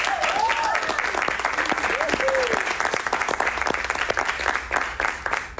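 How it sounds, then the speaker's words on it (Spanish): Audience applause on a Puerto Rico talk show greeting a Cuban singer, steady clapping carried through the whole stretch with a few brief vocal tones and voices rising over it at moments. "Un aplauso para ella."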